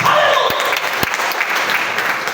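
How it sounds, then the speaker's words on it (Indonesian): A church congregation applauds during a morning worship service, dense steady clapping filling the room for a couple of seconds, with a few sharper claps standing out near the start. "Kita berikan tepuk tangan"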